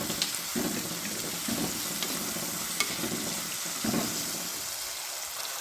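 Sliced onions with salt sauté in a pan for Kerala-style fish mappas, a steady close sizzle with a few soft stirring scrapes at irregular intervals and no talking.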